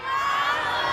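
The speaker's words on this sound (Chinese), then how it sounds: "要借由大家热情的掌声" A big outdoor crowd at a New Year's Eve concert in Changhua City cheers loudly, with high-pitched shouts and screams merging into one sustained roar.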